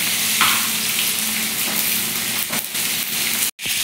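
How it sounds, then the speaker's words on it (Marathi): Stuffed brinjals drop into hot oil and fry with a loud, continuous sizzle and crackle, close up, with a brief clatter and a momentary drop near the end; no one speaks. "ही सर्व वांगी आपण या तेलामध्ये सोडून घ्यायची आहे"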